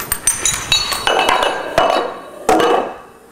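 Small dominoes toppling one into the next, the smallest about 5 millimetres high and 1 millimetre thick, each growing about 1.5 times larger, giving a run of sharp clicks that get heavier and louder, ending in a few solid clacks, with no talk.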